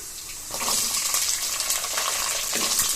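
Ingredients for vendhaya kuzhambu, a fenugreek masala curry, sauté in a pan: a loud, dense hiss of sizzling begins after a brief quieter moment and carries on steadily and close.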